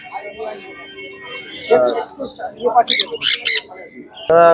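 Harsh parrot squawks and shrill calls ring out close by, including Senegal parrots, mixed with people talking in a busy indoor pet market in Serampore, Kolkata.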